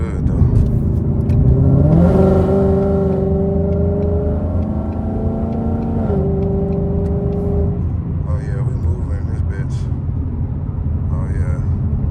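A Ford Mustang GT with a 10-speed transmission revs up and settles as auto rev match blips the throttle between shifts, its engine note climbing and falling in steady steps, loud and close from inside the cabin under continuous road rumble.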